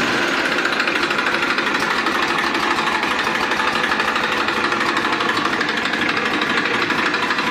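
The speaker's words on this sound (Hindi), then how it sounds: "तो पहले हम आपको स्टार्टिंग दिखवाएंगे" A Massey Ferguson 1035 DI tractor engine, a diesel with dual clutch, runs loud and close in a steady, dense, rattling chug with no pauses or change in pace.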